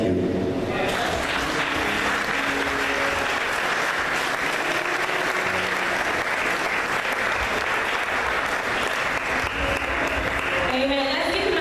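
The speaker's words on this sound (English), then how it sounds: "Let's give him another round of applause." A church congregation at a Good Friday service of a national convention applauds in a loud, sustained round of clapping that fills the space throughout, with voices mixed in.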